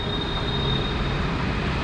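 The Rajdhani Express rolls along its line with a constant, close rumble of wheels and carriages, a dense unbroken noise with no voices.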